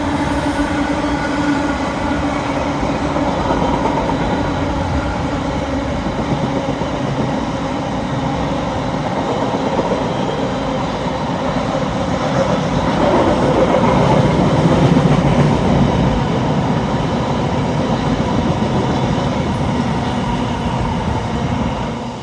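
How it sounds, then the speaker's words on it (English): A long freight train rolls past a road overbridge at Sonning behind locomotive 66561, which has a flat wheel, making a loud, steady rumbling roar of wagons that holds for the whole stretch. "Flat wheel on the loco, courtesy of 66561."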